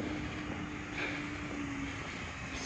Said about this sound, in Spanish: Quizás escuchen ustedes los ruidos de los motores